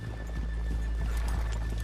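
Horses in the video game Red Dead Redemption 2, with soft hooves and faint snorts over a steady low rumble and ambient hum, no speech.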